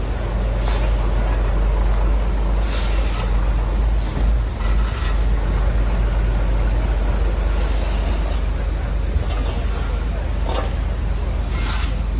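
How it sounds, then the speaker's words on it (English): Heavy roadside traffic of trucks and other equipment, including backhoes, water trucks and open tray trucks, rumbles loudly and continuously. Brief hissing bursts sound like air brakes releasing. "backhoes, water trucks, open tray trucks, and other equipment to easily pass through"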